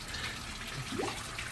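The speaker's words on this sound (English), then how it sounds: "Put the hose straight in there" Garden hose water pouring straight into the block of a Mk1 Escort's Cosworth YB engine to flush it out, a soft, continuous splashing trickle at fairly low level.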